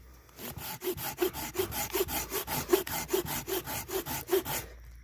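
Silky Outback folding saw cutting resinous fatwood: a steady rhythm of about a dozen rasping push-and-pull strokes, close and fairly loud, with no talking.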